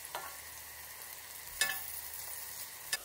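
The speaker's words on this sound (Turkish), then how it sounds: "Kızaran patlıcanları çıkartalım." Eggplants frying in oil in a pot on the stove for a Turkish eggplant menemen, with a faint steady sizzle broken by a few short clattering stirs or turns, heard alone with no talk.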